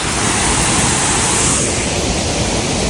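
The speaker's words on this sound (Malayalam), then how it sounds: "ഇതാ അത്യാവശ്യം വെള്ളമൊക്കെ ഉണ്ട് ഇവിടെ വെള്ളച്ചാട്ടത്തിൽ" A waterfall near Neriamangalam bridge in Kerala pours with a loud, close, unbroken roar of rushing water that holds steady throughout.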